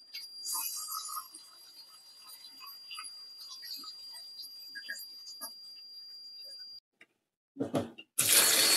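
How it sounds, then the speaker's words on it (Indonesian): Ingredients for plecing being rinsed under running water in a kitchen sink, a steady broadband wash of flowing water with small splashes and clinks, then a brief pause and a louder, harsher gush of water at the end. "Jadi kita bilas sekali lagi."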